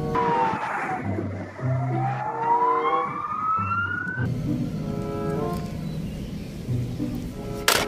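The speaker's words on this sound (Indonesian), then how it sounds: "Mobil polisi, police car." A toy police car gives off an electronic siren, its tone rising and falling in sweeps and then switching to a rapid stepped wail, loud and close throughout with no talk over it.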